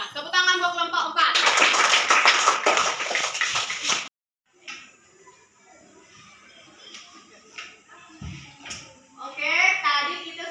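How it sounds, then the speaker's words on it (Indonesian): Classroom applause for a student group after a discussion presentation, a dense burst of clapping from many hands for about four seconds, then a sudden stop followed by quieter room noise and a teacher's voice talking. "Ya, tepuk tangan buat kelompok 4."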